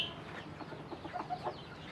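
Chickens on a farm cluck softly in the background with a few short calls, over a low murmur of ambient noise.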